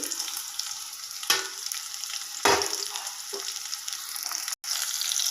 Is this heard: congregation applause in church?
no